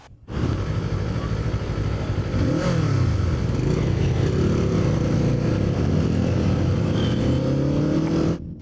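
A Kawasaki Eliminator 500 custom motorcycle engine drones loud and close while riding, a steady throbbing rumble with rising pitch sweeps as it revs up through the gears, with no talking.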